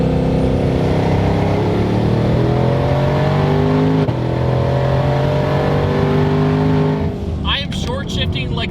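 A 1200-horsepower twin-turbo Shelby GT500 accelerates hard at full throttle, its engine note climbing steadily and loud from close by, with a brief dip near the middle, before the roar cuts off near the end under some talk.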